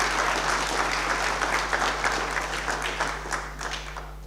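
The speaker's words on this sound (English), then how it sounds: "can we give him one of the biggest rounds of applause?" Sustained applause from a lecture audience honoring a guest, dense clapping at steady volume that slowly thins toward the end, with a constant low electrical hum underneath.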